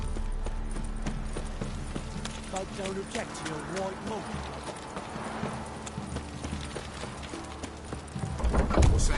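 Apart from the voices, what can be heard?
horse hooves clip-clopping in a video game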